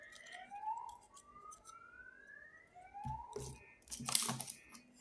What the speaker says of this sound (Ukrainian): що там сирена в нас